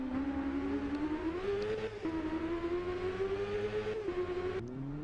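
A BMW motorcycle engine in the racing game RIDE revs hard at a launch, a loud tonal whine climbing steadily through gears with brief dips at each shift, alone without talk.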